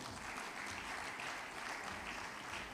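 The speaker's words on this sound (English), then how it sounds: "let us give ZAINAB another round of applause" Audience applause for Zainab at a breakout session on traditional, complementary and alternative medicine, dense sustained clapping filling the room throughout at steady level.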